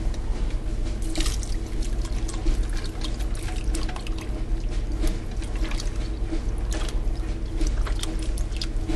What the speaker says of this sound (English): I'm also going to add some milk.